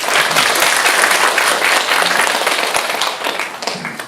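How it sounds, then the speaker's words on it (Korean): Audience applause at a Korean pharmacist's public lecture on skin care, dense and sustained clapping from a large crowd that holds steady before tapering slightly near the end. "이런 거 할 때는 여러분들 박수 쳐주셔도 됩니다."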